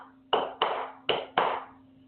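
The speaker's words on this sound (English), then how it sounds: "Even clapping" Four sharp, close hand claps in an uneven rhythm, each ringing briefly in a small quiet room over a low steady hum.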